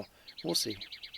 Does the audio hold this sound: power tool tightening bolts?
no